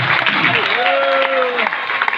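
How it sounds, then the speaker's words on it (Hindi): An audience at a company event applauds, with dense, continuous clapping while a voice briefly calls out over it. "आप लोगों का जोश और एक्साइटमेंट, तालियां अगर मुझे साथ दें तो मैं उन लोगों को इनवाइट"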